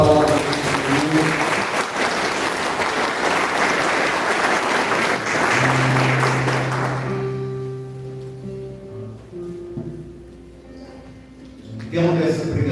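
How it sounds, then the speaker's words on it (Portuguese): A church congregation bursts into loud, dense applause for several seconds, then the clapping fades out while a voice speaks over the dying claps. "Vamos aplaudir poderosamente a palavra do Senhor"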